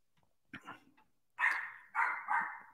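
A dog barks a few times indoors, a short yip followed by two louder, sharper barks fairly close by, with otherwise quiet surroundings.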